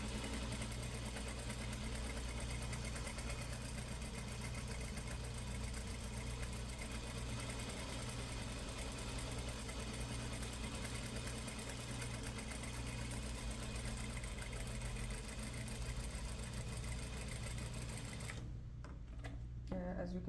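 A sewing machine runs steadily for the whole stretch, stitching a Peter Pan collar onto a bodice neckline from inside the garment, with a continuous close mechanical hum and rapid needle clatter that cuts off abruptly near the end.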